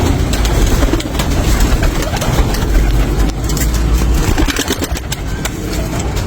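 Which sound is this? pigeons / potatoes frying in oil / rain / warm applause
pigeons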